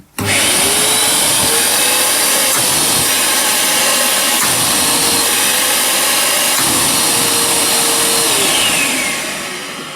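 A Starmix AS 1220 construction vacuum cleaner switches on abruptly and runs loud and steady for about nine seconds with a constant whining motor drone, then begins to fade at the end; no talking.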